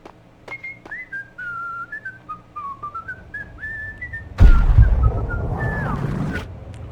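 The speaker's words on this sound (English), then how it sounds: "Who is whistling?" Someone whistles a wavering, melodic tune in the Max Payne video game, clear and alone at moderate loudness, until a sudden loud burst of noise cuts in and continues under the closing notes.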